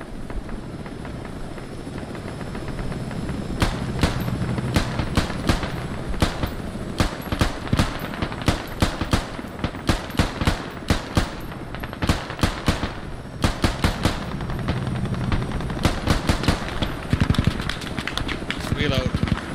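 A helicopter's steady rotor roar in a video game runs throughout, overlaid by rapid bursts of gunfire and scattered sharp bangs, with voices occasionally underneath.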